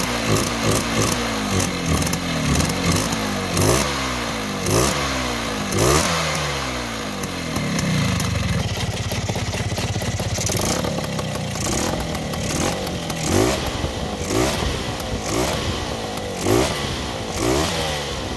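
A Predator 208cc small engine fitted with a SmartCarb SC2 carburetor runs at idle, a loud, continuous, slightly uneven chugging putter that holds on close by throughout.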